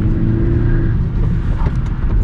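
A monster vehicle drifting through an ice rink in a destruction video game, a loud, steady engine roar with sustained tire-slide rumble for a couple of seconds, no voices.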